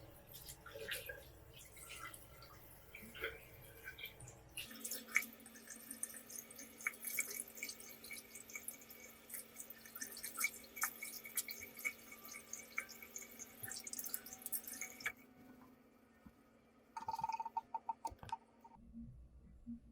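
Water splashing and dripping at a sink as a face mask is rinsed off skin, close and fairly quiet, with a steadier running stretch in the middle and a few brief drips and clatters near the end.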